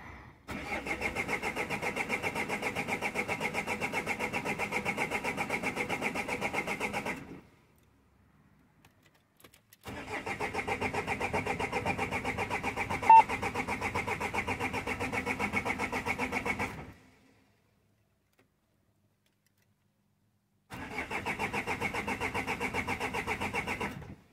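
A Renault Master MK2 with the G9U 120 dCi diesel engine cranks over in three long, steady starter spells separated by silent pauses, turning without firing.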